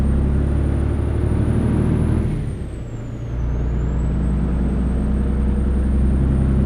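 A video game truck engine idles with a deep, rumbling drone, dipping briefly in the middle before settling back into a steady low growl.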